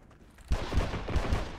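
Rapid bursts of PPSh submachine gun fire in the video game Heroes and Generals, a fast rattling volley of close, punchy shots lasting about a second.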